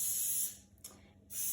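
Cooking spray is misted onto the outside of a cake tin lined with paper. Two short, close hissing bursts come with a brief pause between them.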